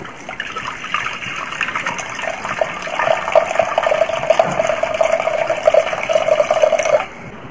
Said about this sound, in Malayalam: അതിലേക്ക് 4 ഗ്ലാസ് വെള്ളം ഒഴിക്കുക.